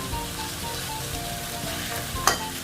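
Eggplant stir-frying with Thai basil in a hot pan, a continuous close sizzle and crackle with occasional stirring scrapes and one sharper clatter near the end.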